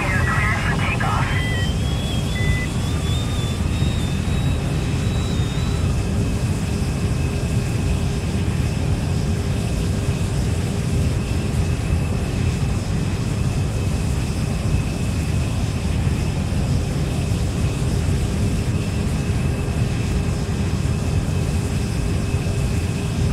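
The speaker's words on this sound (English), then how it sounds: "Flight 527, runway 18, we are clear for takeoff." Jet airliner taking off in an Android flight simulator game: a loud, steady engine roar with broad rushing noise fills the whole stretch, a brief high whine near the start, with a voice speaking over it.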